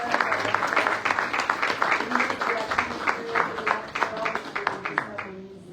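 Applause rises at a press conference, a crowd clapping in a lively, slightly uneven rhythm, with individual claps audible at moderate distance and fading near the end.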